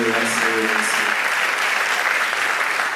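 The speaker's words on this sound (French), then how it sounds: "on peut l'attester par des applaudissements" A studio audience on a television talk show breaks into sustained, even applause, a dense wash of clapping heard right after a brief voice at the start.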